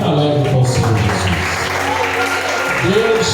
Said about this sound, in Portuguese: com uma salva de palmas bem alegre para o Senhor Jesus